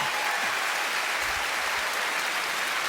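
Steady, dense applause from a comedy show audience, continuous clapping filling the whole stretch without pause.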